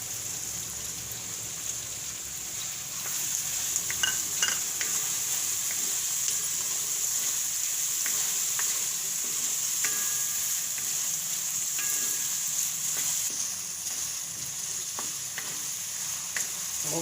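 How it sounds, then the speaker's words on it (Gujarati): Tomatoes sizzle steadily in hot oil alongside bottle gourd for a pea and gourd curry, with a constant bright frying hiss and occasional clinks and scrapes of a spoon stirring the pan, no voices. "તો હવે આપણે આ ટમેટા નાખી દેવું"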